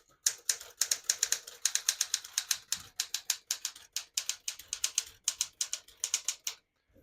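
Rapid mechanical keystrokes clack on a 1958 Smith-Corona Super 12 portable typewriter in uneven bursts, crisp and close, with brief pauses between runs of typing.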